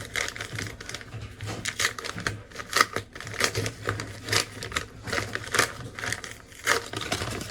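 Crinkly plastic being handled while a package is unwrapped, a plastic bag with another bag and bubble wrap inside, heard close up as a run of irregular rustles and sharp crackles with no talking.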